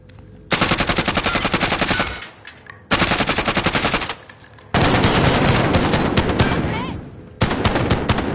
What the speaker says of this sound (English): Sounds like a shotgun to me.